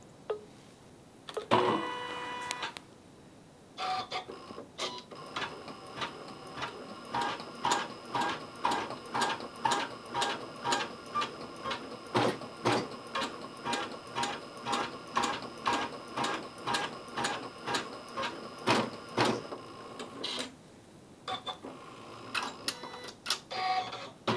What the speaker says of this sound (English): This time when it went around, it described a rectangle that just enclosed the design.